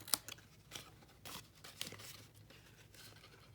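Half a sheet of card stock is snipped to remove the tab pieces of a party favor box: a few sharp papery cuts and crinkles, close and fairly quiet, with rustling between them and no talk.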